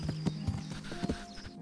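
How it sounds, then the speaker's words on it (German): Rhythmic clip-clop of horse hooves at a steady walking pace in the video game Kingdom Come: Deliverance, with a faint background hum. "Und warum steht jetzt hier das Pferd von Herrn Ratzig?"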